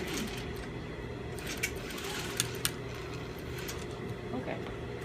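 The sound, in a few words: sewing machine back stitching a neckline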